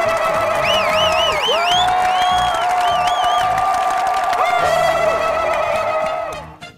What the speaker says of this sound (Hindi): वहाब भाई के लिए तालियां, जब तक बैठे नहीं तालियां बजती रहे